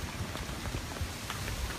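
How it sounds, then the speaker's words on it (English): Big raindrops fall outdoors as a steady, fairly faint pattering spatter on surfaces, with scattered louder drops throughout. "Those are big raindrops."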